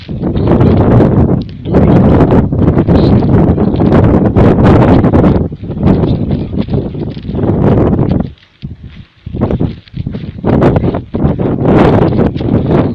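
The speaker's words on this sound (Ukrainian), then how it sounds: "вітер який сильно дерева нагинає" Strong gusting wind roars across the microphone and rustles foliage on a riverbank in September, bending trees, loud and nearly constant, easing briefly before surging again.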